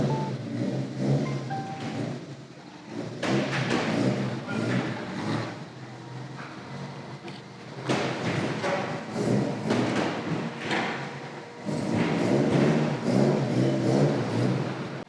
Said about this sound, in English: But should we take it for a spin?